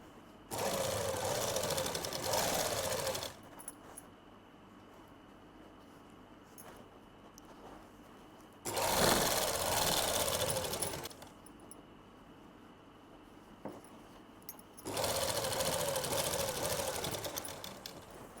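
A sewing machine stitching a palazzo seam runs in three steady bursts of rapid whirring, close and fairly loud, separated by quiet pauses.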